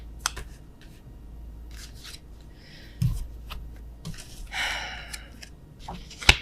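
Tarot cards flipped and shuffled during a love reading, giving scattered soft papery snaps and rustles with a few sharper clicks, fairly close and quiet, with no talk.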